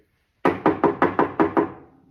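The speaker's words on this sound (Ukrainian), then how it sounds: "і тут хтось стукає" Knocking on a door: seven quick, evenly spaced raps, close and fairly loud, after a short silence and with no voices.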